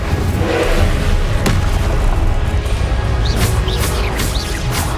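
Incendio fire spell cast in the video game Hogwarts Legacy, a loud continuous whooshing burst with a thud, layered with bright chirping effects toward the end.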